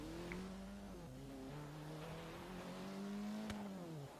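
A modern hatchback accelerating off the line in the Forza racing game, its engine note climbing steadily through several gear changes, alone and continuous.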